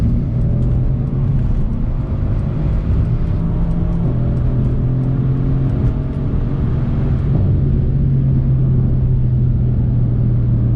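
A 510-horsepower Mercedes C63S AMG accelerates hard on a motorway: a loud, steady engine roar with rising harmonic sweeps that drop back at gear changes, over constant road rumble, no talk.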